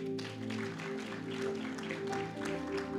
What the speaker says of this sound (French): Et on applaudit pour lui.